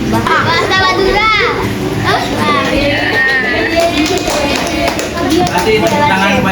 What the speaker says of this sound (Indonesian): Kasih tepuk tangan kepada adiknya